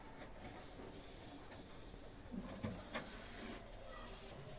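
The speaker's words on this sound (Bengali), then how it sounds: "দেখুন আরেক জোড়া টেডি পায়রা ডানা কাটা আছে" Teddy pigeons with clipped wings cooing softly at a pigeon house in Katwa, a few low coos rising over a steady background hum, faint and close.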